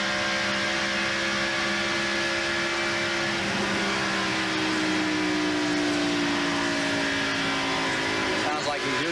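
Stock car engines from the 1989 Miller High Life 400 NASCAR race roar steadily on the oval track, one car lapping with another close on its bumper, a loud continuous drone with shifting pitch under a commentator's voice.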